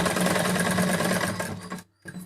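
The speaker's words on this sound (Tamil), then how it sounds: "2 கிளாத்க்கும் ஒண்ணா சேர்ற மாதிரி ஒரு தையலும் போட்டுக்குங்க." A sewing machine runs fast and steadily, stitching two pieces of blouse cloth together, then stops briefly before a short final burst of stitching.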